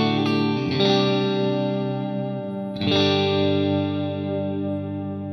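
Electric guitar on a clean tone running through a Line 6 Helix in the effects loop, two strummed chords ringing out with a long, full sustain, no voices.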